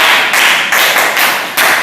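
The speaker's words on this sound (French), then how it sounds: "Applaudissez pour elle." Primary-school pupils in a classroom give a classmate a short round of applause, a few loud, even bursts of clapping close by that fade slightly over about two seconds.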